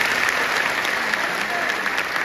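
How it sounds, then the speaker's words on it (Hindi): Steady audience applause at a college fest poetry recital, dense and continuous hand clapping from a crowd with a faint voice underneath. "आपकी अनुमति चाहता हूँ एक बार तालियां बजाइए"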